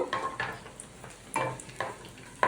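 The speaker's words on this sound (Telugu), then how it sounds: "ఇప్పుడు ఎండు ద్రాక్ష వేసుకుందామండి ఒక యాభై గ్రాములు ఇవి ఆగిపోయి నెయ్యి కాగిపోయి ఉంది కదండి" Fifty grams of raisins frying in hot ghee for a chana dal and jaggery payasam, a steady soft sizzle with a few louder stirring scrapes in the pan, close and alone.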